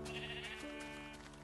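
A sheep in the Minecraft video game gives a single short, wavering bleat, heard alone and fairly quiet.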